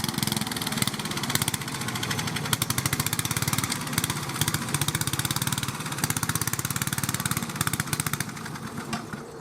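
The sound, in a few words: Briggs and Stratton small engine running and dying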